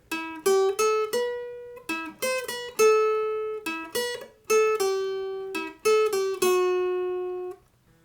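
An acoustic guitar plays a short melodic riff of plucked notes and slides, some ringing out longer, clear and close with no voices.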